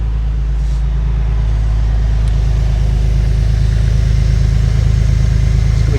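An old Porsche engine idles high, a loud, steady, even drone with a deep rumble that holds constant throughout, close up and with no talk.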